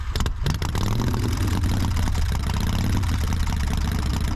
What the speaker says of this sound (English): But the sound bite of this motorcycle,